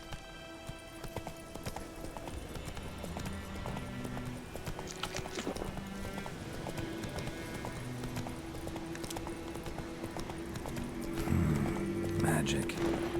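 Hooves of Roach, the horse in the video game The Witcher 3, clip-clopping in a steady trotting rhythm under game music and ambience, with someone talking over it and a louder burst near the end.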